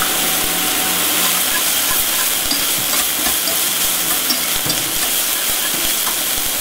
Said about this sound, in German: So, wir wechseln jetzt zum Schneebesen.